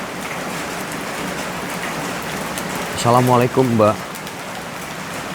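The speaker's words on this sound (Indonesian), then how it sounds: "Ini hujan makin syahdu, sahabat." Heavy rain pours down steadily in a broad, even hiss outdoors, continuing under a brief spoken greeting midway.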